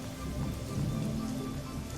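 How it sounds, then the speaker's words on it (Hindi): Steady, dense rainfall pattering on a surface, constant and fairly loud throughout, with no voices. "अरे बापू, घर में तो जंगल से भी ज्यादा बारिश हो रही है।"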